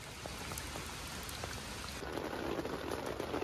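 Steady heavy rain pattering and hissing on a surface, growing denser and louder toward the end, with no voices.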